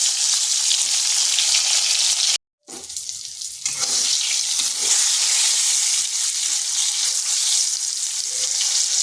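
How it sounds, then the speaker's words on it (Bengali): Eggplant pieces fry in hot oil for a vegetarian eggplant and mung dal dish, giving a loud, steady, close sizzle that cuts out briefly near the start and then returns at full strength. "প্রথমে বেগুনগুলোকে ভেজে নিচ্ছি।"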